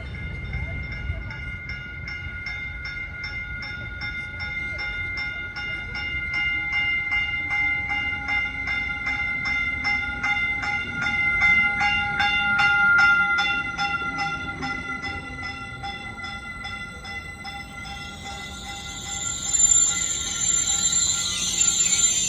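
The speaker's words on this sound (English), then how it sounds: "The train we're taking is now approaching, so we'll be boarding onto that train" A Caltrain train approaches and pulls into Millbrae station: a low rolling rumble builds and swells with sustained high metallic squeals over it, then the train eases off as it arrives.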